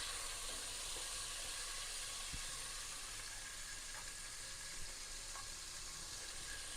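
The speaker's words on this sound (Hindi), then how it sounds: "शामिल कर देंगे शिमला मिर्च। इसको हम थोड़ा सा भूनेंगे।" Capsicum frying in a pan with oil, a steady broad sizzle and hiss with faint occasional stirring taps, close and continuous with no talking.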